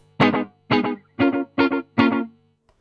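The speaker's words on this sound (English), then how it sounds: "Preset number 2 is a slap echo." Five short, distorted guitar stabs in a steady rhythm, each trailed by a quick, tight slapback echo that fades fast, from a Flashback Delay pedal slap echo preset.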